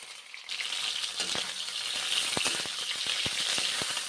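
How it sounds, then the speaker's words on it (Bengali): Chicken pieces fry in hot oil in a pan, giving a steady close sizzle with scattered sharp pops and spatters throughout, no voices. "ভেজে নিচ্ছি এখন চিকেন ভেজে নিয়ে তারপরে রান্না করব"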